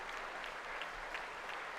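Audience applause from a played recording, steady dense clapping from many hands sounding somewhat distant and moderately faint, continuous throughout without talking.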